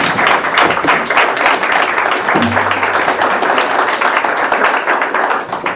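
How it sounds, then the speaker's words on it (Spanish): An audience applauds at a daytime conference session on human trafficking and refugees, with loud, dense clapping sustained throughout and a brief low tone partway in. "Un aplauso, por favor, para..."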